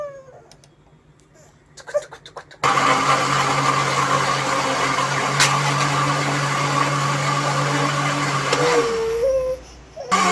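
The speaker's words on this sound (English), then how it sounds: "So now let's move to blending." A blender purées soft cooked carrots into baby food, a loud steady whirring drone running for several seconds before winding down, with quiet background noise before it starts.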